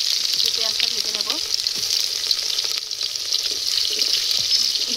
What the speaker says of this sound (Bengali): পেঁয়াজ দিয়ে দিচ্ছি, পেঁয়াজটা ভেজে নেবো